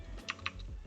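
A few quick keystrokes on a computer keyboard, light clicks in a short irregular burst, close and quiet with no voices.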